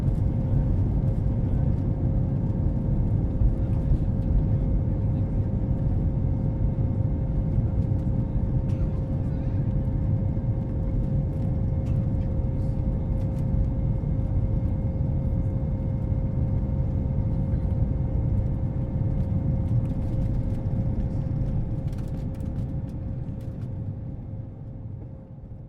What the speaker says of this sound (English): My Air Asia flight is just taking off as usually exactly on time